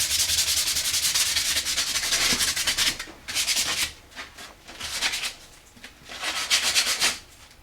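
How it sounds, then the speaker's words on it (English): Rhythmic back-and-forth scratching of sandpaper rubbed by hand over a pine wood derby car, close and loud, in long strokes broken by brief pauses. "if you really want to get fine, you have to do it by hand. The final sanding."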